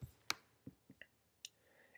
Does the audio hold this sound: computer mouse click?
yes